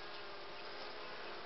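Honey bees buzz steadily over the comb in a hive while a young queen is being introduced, a dense continuous hum close by with no voices.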